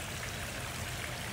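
Water trickles and splashes from a waterworks fountain outside a restaurant in Bullhead City on the Colorado River, a steady close wash of splashing that runs unbroken and alone.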